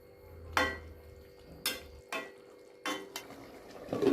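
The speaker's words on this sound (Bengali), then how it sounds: "আবারও একসাথে সব কিছু ভালো করে মিশিয়ে নিচ্ছি।" Mixed vegetables tossed with fried spices in a pot, the spoon scraping and clattering against the metal in several separate sharp strokes, each followed by a short pause, with no voices.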